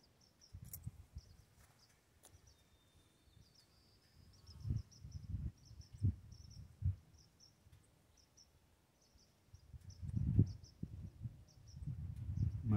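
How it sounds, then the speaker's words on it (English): Small birds chirp faintly and repeatedly in the distance along a quiet trail in Big Lake, Alaska, with low rumbling wind or handling noise coming and going underneath. "You listen very carefully, you can hear all the little birdies chirping."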